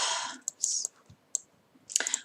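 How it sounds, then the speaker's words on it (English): A cat running across a computer keyboard sets off a scattered burst of light key clicks, close and irregular, with quiet pauses between taps. "my cat just ran over my keyboard"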